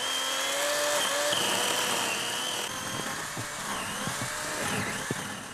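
A saw cutting through a tree to fell it in a snowy forest makes a sustained high motor whine with shifting pitch and scattered clicks and knocks, fairly loud and close.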